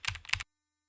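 Quick burst of computer keyboard typing, two short clusters of keystrokes close up, then silence for the rest of the moment.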